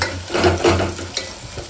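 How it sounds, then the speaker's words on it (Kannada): Onions frying in a pan until soft for Udupi hotel-style tomato bath, with a steady close sizzle and stirring scrapes throughout, a short sharp clink near the end. "ಇವಾಗ ಉಳ್ಳಾಗಡ್ಡಿ ಮೆತ್ತಗೆ ಫ್ರೈ ಆಗ್ಯಾವು"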